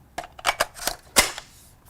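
Rifle magazines snapping into and sliding out of an aluminum SR25-pattern SCAR25 lower receiver for an FN SCAR 17, heard as several sharp close metallic clicks and clacks in quick succession, with one louder snap near the end and no talk.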